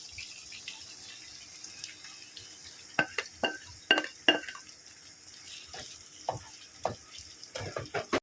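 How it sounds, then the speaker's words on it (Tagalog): Beef and okra fry in a pan with tomato paste, giving a continuous soft sizzle broken by a series of sharp metallic clinks as a utensil stirs the pan. No one speaks. "I will fry well until getting brown"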